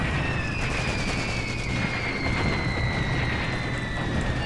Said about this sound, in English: someone's definitely firing a mortar